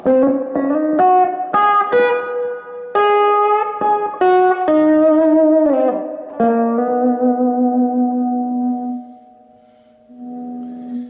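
An electric guitar played through a Marshall amp on its clean reverb setting rings out single notes and short phrases, each decaying with a reverb tail before a final sustained note fades and returns softly.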